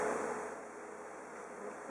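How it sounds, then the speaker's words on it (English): Many bees swarm around a hive under attack in southwest Florida, making a continuous, fairly faint droning buzz with no voices. "This hive seems to be under attack by many bees."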